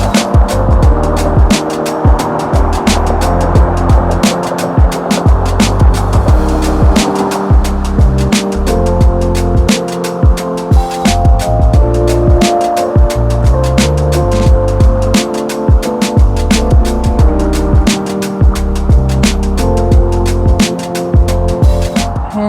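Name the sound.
noisy cars driving by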